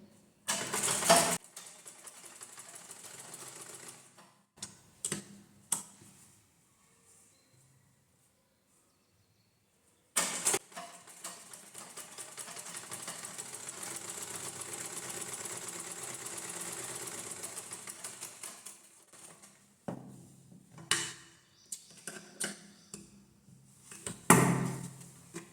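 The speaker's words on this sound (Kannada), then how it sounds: "ಇವಾಗ ನೀಟಾಗಿ ಸ್ಮೂತಾಗಿ ಬಟ್ಟೆ ಕೊಟ್ಟು ಟರ್ನ್ ಮಾಡ್ಕೊಂಡು ರೌಂಡ್ ಶೇಪಿಗೆ ನಾವು ಸ್ಟಿಚ್ ಮಾಡಬೇಕಾಗುತ್ತೆ." Sewing machine stitching a blouse sleeve in a round shape, bursts of steady mechanical whirring that stop and restart, including one long sustained run, close up with no talk.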